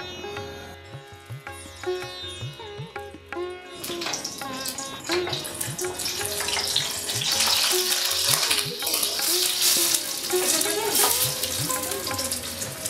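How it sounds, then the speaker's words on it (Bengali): Onions fry in a pan for a tomato fish curry, a steady hissing sizzle that grows louder and denser after a few seconds, with background music playing throughout. "আমরা পেঁয়াজটা ভেজে তুলে নিয়ে কারিটা বানিয়ে নেব।"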